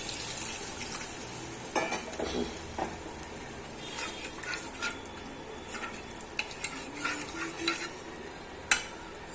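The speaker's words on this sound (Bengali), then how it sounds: "এবার গরম জল ফেলে দেবো।" Hot water poured into a pan of Bengali loitta fish curry cooking in a paste of ginger, garlic, onion, tomato and garam masala, giving a steady close sizzle and bubbling with scattered clinks of a spoon against the pot.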